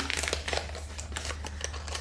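Plastic sachets of activated charcoal face mask powder crinkle and rustle steadily at close range for about two seconds, with no voices and a low steady hum underneath.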